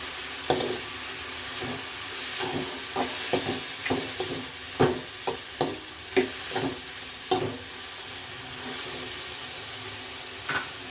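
Tomatoes with salt cook in a pan for a Kannada gojju, giving a steady sizzle under repeated clinking strokes of a spoon stirring, close and without talk.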